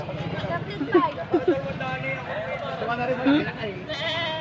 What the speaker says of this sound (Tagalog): Yan po oh, mga kambing.